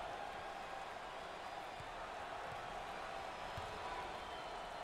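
At an NCAA March Madness Sweet 16 basketball game between Virginia Tech and TCU, a crowd gives a standing ovation: a steady, distant wash of applause and cheering filling the arena, with a few ball bounces underneath.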